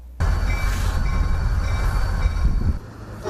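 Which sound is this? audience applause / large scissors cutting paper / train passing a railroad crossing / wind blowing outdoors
train passing a railroad crossing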